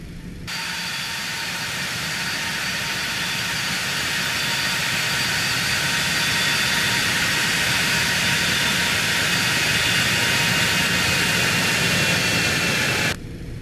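A Cessna Citation X business jet taxiing in X-Plane 12 produces a steady, loud turbine whine and broadband roar that holds evenly for about thirteen seconds, with no voices over it.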